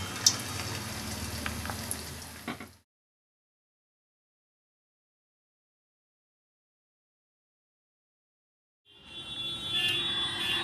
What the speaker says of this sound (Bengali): মিষ্টি কুমড়োর ফুলটা এখানে দিয়ে দিব। তারপর তেলের মধ্যে দিয়ে ভেজে নেব।